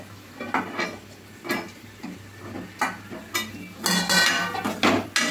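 A spoon stirs chili powder and salt into drumstick pieces in a metal pan for a drumstick and tomato curry, giving repeated close scraping and clinking strikes in an irregular rhythm, with no talk.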